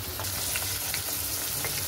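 Raw potatoes sizzling and crackling in oil in a wok, a steady close, dense fry noise with small pops throughout, no voices.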